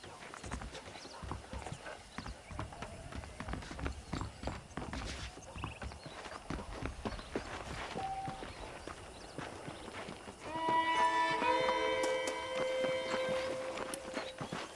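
Horse hooves clip-clopping in the Red Dead Redemption game, a steady walking rhythm over ambient game sound, with a musical cue entering near the end.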